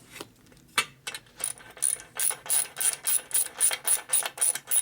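A wrench ratchets in quick, evenly spaced bursts of clicking while bolts are tightened on a 1990 FXR motorcycle, close and clear with no talk.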